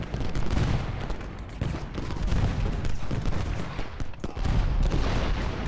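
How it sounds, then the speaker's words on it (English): Cannons and massed musket fire boom in a Gettysburg Civil War battle in Ultimate General: Gettysburg, a dense, continuous rumble of overlapping volleys that stays loud for the whole stretch, with no talking. "Cannon's still firing, which is what I want to see."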